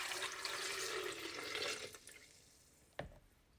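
Water poured into a Vitamix blender holding a whole lemon, a steady splashing gush for about two seconds that tapers off, followed by a single sharp knock.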